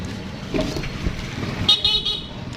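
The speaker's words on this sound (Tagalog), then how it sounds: "O, tama yung busina." A car horn honks in a few short toots over road traffic noise, fairly close.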